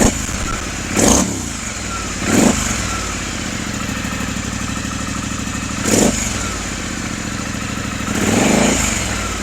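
A motorcycle fitted with a newly installed decat exhaust pipe, recorded right at the exhaust outlet: a loud, steady idle rumble broken by four short throttle blips.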